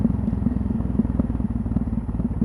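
A Yamaha XT660Z Tenere with its 660 single-cylinder engine idles up close, a steady, loud, deep rhythmic thumping pulse that continues without a break.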